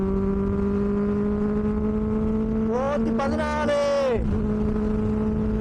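A Benelli 600i motorcycle exhaust drones at a steady pitch in third gear, then briefly climbs and roars with rising harmonics before settling again. A rider speaks over the engine.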